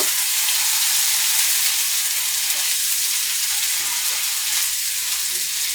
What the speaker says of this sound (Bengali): পেঁয়াজ কুচি, আমি নেড়ে চেড়ে নেব